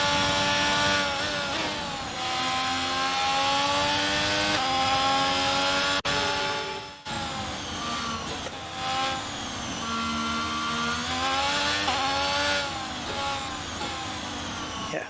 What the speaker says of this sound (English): if you hear the engine rev staying a little bit high as I'm going around that corner